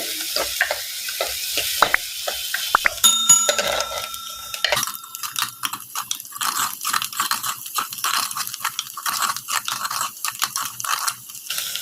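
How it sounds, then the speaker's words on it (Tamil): Onions sauté in a clay pot for dried fish curry, a steady close sizzle with repeated scraping stirs of a utensil against the pot, running continuously with no talk. "இப்போ வெங்காயம் வதங்கி ப்ரௌன் கலராக மாறணும், நல்லா வதங்கட்டும்."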